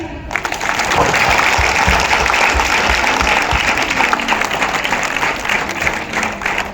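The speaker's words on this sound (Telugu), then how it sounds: "సో ఒకసారి బిగ్ క్లాప్స్." A crowd at a morning business meeting gives big, sustained applause, dense loud clapping lasting several seconds with faint voices underneath.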